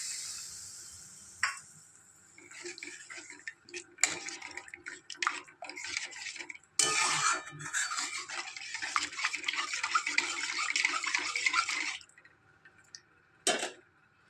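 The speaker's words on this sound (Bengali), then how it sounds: "এরপর এতে জল দিয়ে দেব।" Water is poured into a pan of fried spice paste for a sour-spicy raw mango fish curry, setting off a loud hiss and sputter with clinks of utensils, in bursts that rise and fall.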